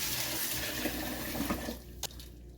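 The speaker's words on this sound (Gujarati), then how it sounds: "આ રીતે સરસ મસળીને ધોઈ લેવાના." Sago pearls being washed by hand-rubbing in a bowl of water for papad, a steady close swishing and sloshing of water that thins out near the end, with a couple of brief splashes and no talk.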